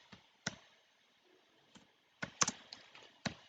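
A few sharp key clicks from typing a command on a computer keyboard in a quiet room, arriving in short irregular bursts with pauses between them.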